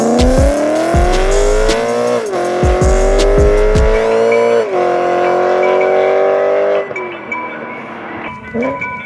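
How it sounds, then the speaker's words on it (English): BMW E92 M3 with cat and resonator delete exhaust at full throttle, a loud, close engine rising through revs with brief gear-change dips and crackles, a strong steady roar; low talk is faintly present underneath. "We're gonna do some driving clips now with like full throttle,"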